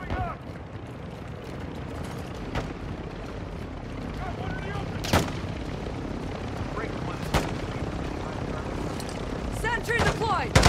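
Gunfire and sharp blasts in a Call of Duty MW2 co-op match on the Mt. Zaya map crack out as a few scattered loud bangs over a rumbling battle din, with radio-style voices speaking throughout.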